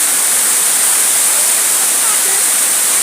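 A scenic waterfall near Bhagamandala town, its roar a steady, loud broadband rush of falling water that fills the whole span without pause or variation.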